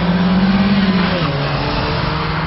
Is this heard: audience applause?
no